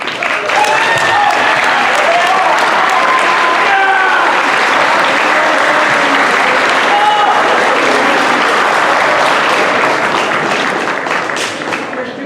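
A high school recognition assembly crowd gives the boys track and field team a long, loud, unbroken wave of applause, dense clapping from many hands filling the room.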